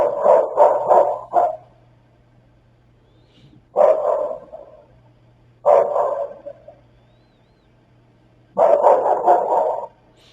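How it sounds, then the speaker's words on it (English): Murphy the dog barks in four bursts, a quick run of several barks, then two single barks and a final cluster, loud and echoey with a faint low hum between them. "Murphy bark is more echoey, so it does change."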